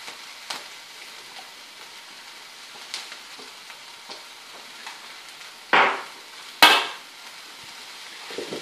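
Fried rice with soy sauce sizzles softly in a pan under occasional stirring taps, then two sharp, loud hissing bursts flare up as liquid hits the hot pan, with no talk.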